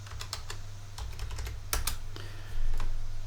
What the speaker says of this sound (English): I'm typing in a value lower than the accumulate.